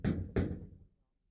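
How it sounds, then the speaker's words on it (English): Two firm knocks on a wooden door, close and loud with a short gap between them, at dinner time in a family home, then silence. "Someone knocks at the door."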